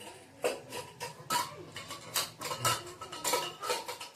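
A metal pressure cooker that held boiled potatoes is handled while dishes are washed, giving a run of close, irregular clanks and clatters against other utensils with no talking.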